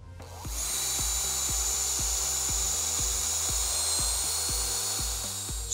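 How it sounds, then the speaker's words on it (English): A drill gun drives a self-tapping screw into an insulated metal roofing panel: a loud, sustained high whine with rapid rhythmic thumps as the screw bites and cuts through the metal, close up and alone. "Swarf may be produced as a drill screw cuts into the metal"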